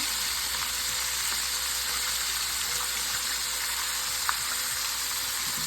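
Sous vide chicken wings fry in hot oil close by, a dense, continuous sizzle and bubbling hiss with a faint tap near the end.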